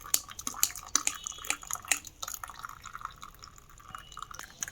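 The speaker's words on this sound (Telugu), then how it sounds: "ఇప్పుడు ఈ కాఫీ పొడిని మనం ఫిల్టర్ చేసుకోవడమే, అంటే వడకట్టుకోవడం" Brewed coffee strained through a filter after coming off the stove, with light dripping and trickling liquid splashes, a few sharp drips early on, then a quieter steady trickle, close and faint.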